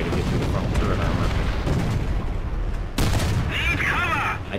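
A tank cannon shot in the War Thunder video game fires at a T-34. The boom and rumble are loud and sustained, and a second blast cuts in sharply partway through.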